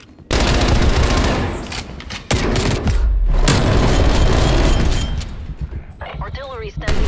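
A frag grenade blast and heavy automatic gunfire from the Call of Duty Black Ops Cold War game, loud and dense, with a booming hit near the start and sharp reports continuing, and voices talking partway through.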